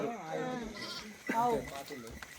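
Goats in a remote village bleat in wavering, nasal calls, one louder bleat standing out midway, with voices of people mixed in nearby.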